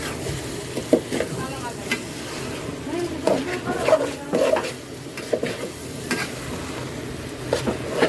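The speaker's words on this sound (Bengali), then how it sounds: "এইটাকে আমি ভাজা ভাজা করবো" Masala stirred and fried in a pan for a Friday home-cooked meal: continuous sizzling with repeated scraping stirs at an uneven rhythm, close and moderately loud, with faint talk in the background.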